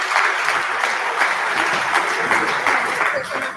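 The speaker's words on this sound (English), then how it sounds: "Let's give one more round of applause to everybody" A winter sports awards ceremony ends in a short burst of full-room applause, dense and loud clapping from many people with some crowd noise mixed in.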